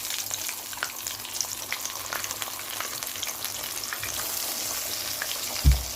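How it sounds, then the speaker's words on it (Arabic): Fish deep-frying in hot oil, a steady broadband sizzle and crackle running throughout with one brief louder clunk near the end, no voices. "عشان اما اشغل اما اقلي الكاليماري اقلي على طول السمك"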